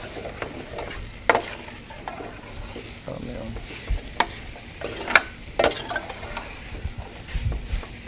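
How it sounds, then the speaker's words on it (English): Tomato paste is stirred into chicken in a pot for Chicken Marengo, giving a continuous sizzle with scraping strokes and occasional sharp clinks of a spoon against the metal, close and fairly loud. "You have to mix all these things so that this tomato paste goes everywhere"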